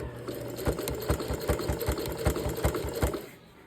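A sewing machine stitches coiled rope for a round jelly roll rug in a fast, steady rhythmic chatter of needle strokes, loud and close, then slows and trails off at the end.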